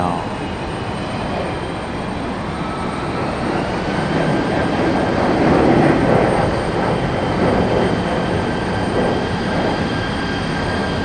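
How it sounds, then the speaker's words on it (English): A JetBlue airliner takes off from Raleigh-Durham airport with a loud, rumbling engine roar that swells toward the middle and stays strong, close and continuous, with no speech. "JetBlue getting out of here"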